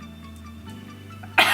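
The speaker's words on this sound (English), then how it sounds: "I had to sneeze and cough at the same time because all the powder went in my nose." A single close cough from a woman doing an eyeshadow tutorial after makeup powder got into her nose, a short sharp burst at the end after near silence.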